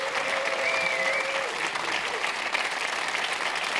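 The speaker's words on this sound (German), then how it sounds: "Ein Riesenapplaus für Christel Sittenauer" A cabaret audience gives cabaret artist Christl Sittenauer loud, sustained applause that fills the room evenly from start to finish, with a brief whistle early on.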